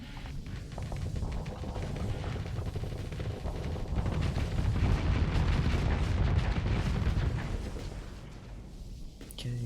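Ship weapons on a Hammerhead-class vessel fire in the space game Starsector: dense, continuous booming and rapid gunfire over a low rumble, steady and loud for the whole stretch, with a voice talking over it.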